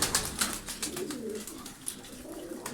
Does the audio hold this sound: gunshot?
no